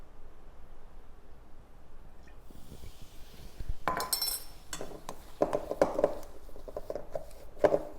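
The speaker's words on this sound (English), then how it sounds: "you're going to mix it around." Bicarb soda and apple cider vinegar being stirred in a mixing bowl for healthy cookies, with clinks and scrapes of a utensil against the bowl in quick bursts, close and moderately loud, with no talking.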